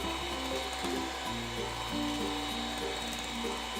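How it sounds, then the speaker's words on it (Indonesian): A handheld electric mixer whips eggs at high speed for a chocolate cake batter, giving a continuous buzzing whir that holds steady throughout with only slight changes in pitch. "Nah, ini sambil terus diaduk, kita menggunakan hand mixer. Gunakan kecepatan tinggi."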